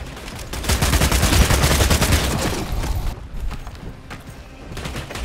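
Sustained automatic fire from an AK rifle in the video game Bloodhunt, a loud, dense rattle of rapid shots for about three seconds, then thinning into scattered quieter bursts.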